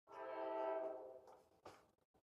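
A passing train sounds a long, loud horn blast that holds for about a second and then fades, followed by a few faint rumbles and clanks from the tracks.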